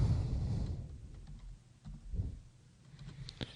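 Computer keyboard typing, a quick burst of light key clicks after a brief low rumble at the start, then a few scattered, fainter taps, close and clear with no talk.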